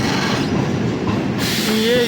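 An Indian Railways passenger train on the Dandeli–Alnavar route rolls along with a loud, continuous rumble and rattle heard from inside, a faint squeal rising near the end.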